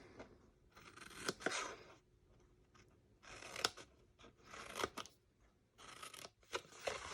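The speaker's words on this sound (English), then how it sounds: "Cut the corners off the square tabs." Scissors cut the corners off cardboard box tabs in quiet, close bursts of crisp snipping and crunching. Short pauses separate the bursts, and there is no talk.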